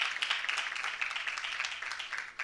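An audience at a conference-style event applauds, a dense patter of many hands clapping steadily and fairly evenly throughout, moderately distant.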